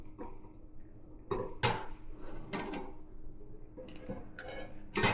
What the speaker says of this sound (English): we're just going to tighten this up with our